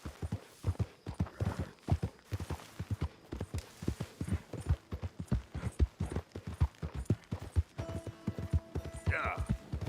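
Horse hooves clip-clopping at a steady walking rhythm in a Western video game, fairly close and moderately loud, with a person talking over the game audio.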